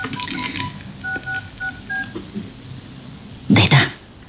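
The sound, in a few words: cellphone ringing in a drama scene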